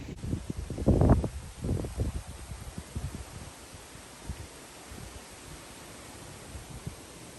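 Gusts of wind thump against the microphone in low rumbling bursts, strongest at the start, then easing into a quieter, breezy hiss.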